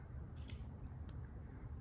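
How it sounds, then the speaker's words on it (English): Soft, quick snips from a pair of scissors cutting yarn, two or three close cuts over a low steady hum, fairly quiet. "These aren't the best cutting scissors in the world."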